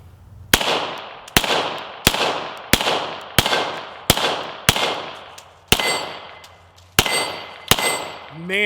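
Ten pistol shots from a Hudson H9 firing Fort Scott ammunition, loud, sharp reports spaced roughly a second apart, each followed by a short echoing decay, outdoors.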